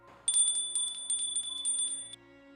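A tiny bell found over a pillow, lifted and shaken by hand, tinkles in a quick run of bright, close jingles lasting about two seconds before stopping.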